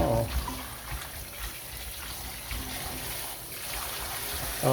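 Tap water runs and trickles steadily while pork trotters are rinsed clean, a moderate splashing flow with small bumps of handling at the start and end.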